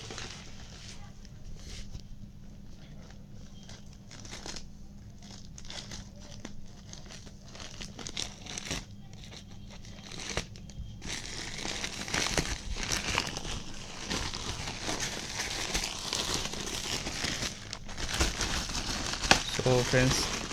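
Logitech F310 gamepad packaging being unpacked, plastic and cardboard crinkling and tearing close up, quieter at first, then louder and more continuous in the second half, with no talk.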